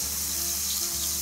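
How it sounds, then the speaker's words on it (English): A little water poured into a Gascon stuffing mixture of onions, greens and livers, giving a soft, steady trickle and faint sizzle-like hiss that runs for just over a second, close and quiet, with no talk. "We're just gonna use a little bit of water."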